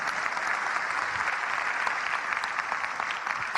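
A church congregation claps together in a steady, dense burst of applause that fills the room and holds at an even level throughout.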